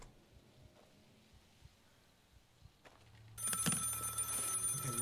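In the video game Maid of Sker, a telephone rings loudly and harshly after a few seconds of quiet, eerie ambience, and keeps ringing to the end.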